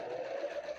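A serger overlocker sewing machine runs steadily while stitching set-in sleeves, giving a continuous close whirring hum with no pauses.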